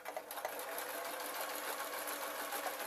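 A sewing machine stitches a baby outfit made from a pillowcase, a steady, close whirring hum with rapid needle chatter running the whole time.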